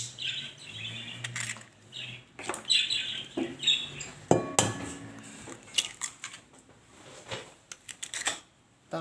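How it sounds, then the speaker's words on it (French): Two eggs are cracked against a bowl for a dessert batter, giving sharp clicks and taps among clinking kitchenware, with a louder crack near the middle and birds chirping faintly behind. "Je vais casser mes 2 œufs."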